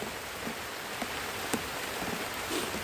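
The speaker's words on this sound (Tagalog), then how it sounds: "sobrang lamig, sobrang lakas ng ulan" Heavy rain falls on a cold night in a steady hissing patter, with scattered louder drops striking a surface close by and no voices.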